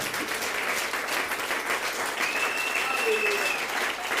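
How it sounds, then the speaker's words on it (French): A church congregation applauds the Lord during a worship service, a sustained roar of many hands clapping at once, with voices calling out beneath it. "Est-ce qu'on peut donner une acclamation au Seigneur?"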